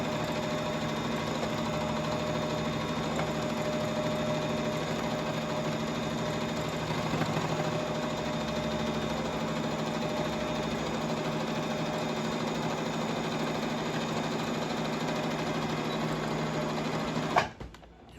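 Sewing machine stitching a crash bag, a continuous close whirring drone of rapid needle strokes running steadily before stopping abruptly with a brief clunk at the end.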